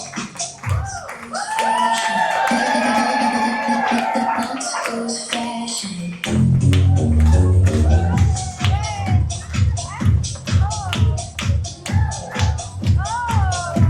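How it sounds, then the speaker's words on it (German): Audience clapping for a model at a fashion show in a carpentry workshop, loud steady applause that carries on under a voice and music-like tones, then turns into rhythmic claps. "Applaus für das Modell!"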